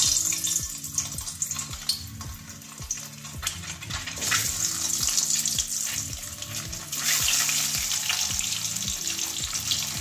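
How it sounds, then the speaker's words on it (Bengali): Turmeric-coated duck eggs frying in a pan, with a steady loud sizzle, some stirring clatter and a rhythmic tapping underneath, going on without speech throughout. "এবারে ডিম কোটা ভেজে নেব,"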